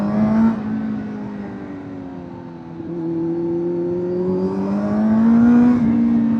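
Kawasaki Z900 motorcycle fitted with a TMC air filter, heard while riding: a smooth, loud engine drone that climbs in pitch as the rider accelerates, eases off, then rises again.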